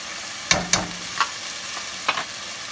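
Garlic and spices fry in a pot for a Haitian rice and okra dish, with a soft continuous sizzle broken by a few sharp stirring scrapes and clicks.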